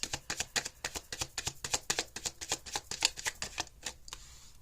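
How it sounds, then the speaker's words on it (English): Tarot cards being shuffled, a quick run of soft rhythmic riffling clicks and snaps, close and faint, easing off at the end. "You can fast forward this part if you don't like to see the shuffle"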